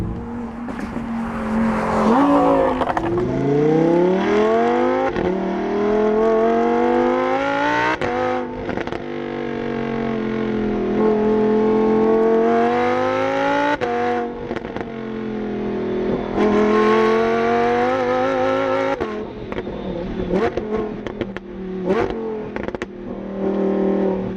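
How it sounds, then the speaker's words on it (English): A stock-exhaust Lamborghini engine revs loudly and up close in repeated rising and falling sweeps, with sharp climbs and drops and short pauses between them, over about twenty-four seconds with no talking. "Lambos sound how most cars sound after you put a aftermarket exhaust on"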